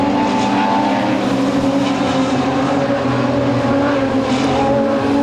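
Modified sedan race cars roar around Premier Speedway Warrnambool at the Victorian title main event, a loud, dense engine drone that holds steady throughout with layered revving from several cars at once, no voices.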